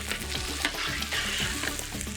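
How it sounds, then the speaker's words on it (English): Bomba rice sizzling and frying in a hot pan, a steady crackling hiss broken by scraping stirring strokes, close and fairly loud, without any voices. "Cook the rice until the grains are shiny."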